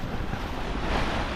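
Big Atlantic ocean rollers washing past a sailing boat on day seven of a crossing, a steady broad roar of surf mixed with wind buffeting the microphone, close and continuous.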